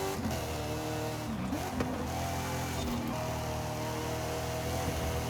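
GMC Typhoon racing truck engine in Forza Horizon 5 drones steadily at high revs, a loud continuous roar with small pitch shifts and no pauses.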